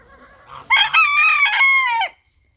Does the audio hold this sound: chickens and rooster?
yes